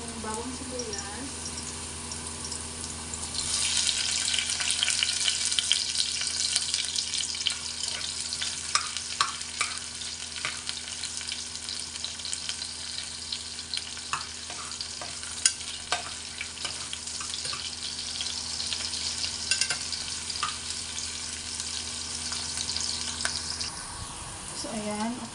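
Garlic and onion sauté in a hot pan for a mung bean and green bean dish. A steady, close sizzle swells after the ingredients go in, broken by occasional stirring taps, and cuts off near the end.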